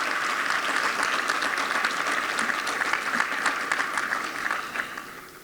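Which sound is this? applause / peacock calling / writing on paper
applause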